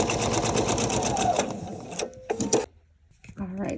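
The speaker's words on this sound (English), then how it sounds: "so this time we're going to sew on this side" A sewing machine runs a rapid, steady stitching burr along a quilt seam for about two seconds. It stutters through a few short bursts, falls briefly silent, then gives one more short run, loud and close.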